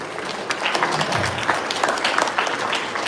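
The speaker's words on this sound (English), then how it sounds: "So give yourselves a round of applause." Dense audience applause at an interfaith climate gathering in San Francisco, many hands clapping loudly and continuously for a few seconds.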